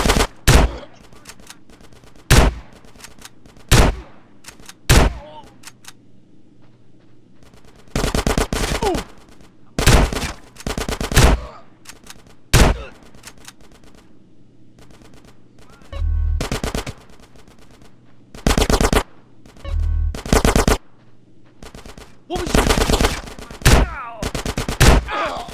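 Bursts of gunfire in GTA San Andreas, sharp single shots and longer rapid volleys spaced irregularly across the scene, loud and close over a low steady hum, with brief voices between them.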